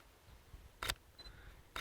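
Two sharp, loud single-lens reflex camera shutter clicks, about a second apart, fired at high shutter speed during nature photography, each a brief crisp snap over quiet background.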